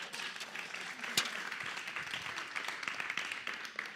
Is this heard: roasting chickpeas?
no